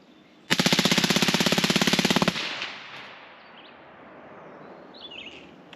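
A rapid 30-round burst of suppressed automatic rifle fire from a 10.3-inch barrel, about two seconds of evenly spaced muffled cracks, then fading echo and faint birdsong outdoors.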